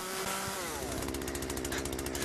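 A chainsaw in the Yeeps video game revs up and runs steadily. The buzzing whine is loud, close and continuous, with a rapid chattering pulse as it reaches full speed.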